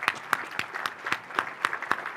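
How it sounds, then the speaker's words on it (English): Audience members at the Petoskey Chamber State of the Community event clap in a fairly regular rhythm, each clap distinct and close, forming a modest round of applause. "You can give them a big round of applause."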